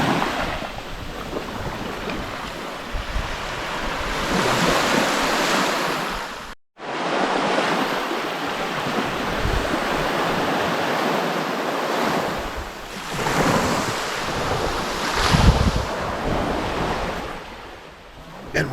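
Ocean waves roll onto Punta Arenas beach on Vieques, Puerto Rico, a loud continuous wash of surf mixed with wind buffeting the microphone and swelling in several surges.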